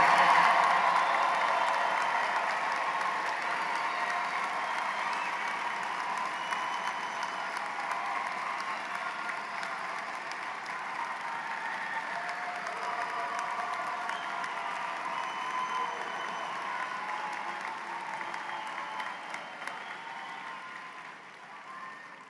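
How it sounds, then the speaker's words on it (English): Sustained applause from a large audience at a doctoral and postgraduate graduation ceremony, honouring the class of 2023: a dense, steady wash of clapping that fills the hall for over twenty seconds and fades slightly toward the end. "Big round of applause for the class of 2023."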